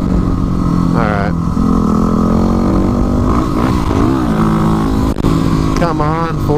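A Yamaha WR250R supermoto motorcycle engine pulls hard and accelerates up through the gears, its revs climbing and dropping at each shift, loud and close with steady wind rush throughout.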